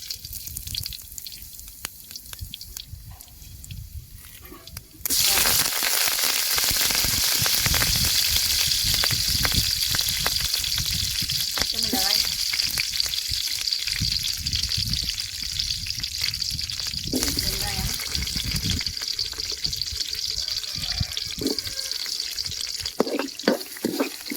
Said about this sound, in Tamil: வெங்காயம் நல்லா வதங்கி வந்துருச்சு